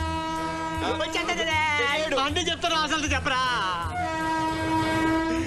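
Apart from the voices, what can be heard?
train approaching nearby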